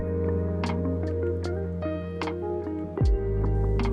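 A butter-greased baking mould filled with cake batter is tapped gently, producing a steady series of light, evenly spaced taps over soft background music, with a duller knock near the end.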